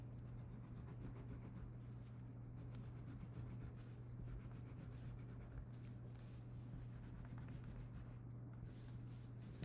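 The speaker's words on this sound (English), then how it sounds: "color on mine and some with my colored pencils" Colored pencils rub and scratch across paper in steady, continuous strokes, faint and close, over a low constant hum with no talk.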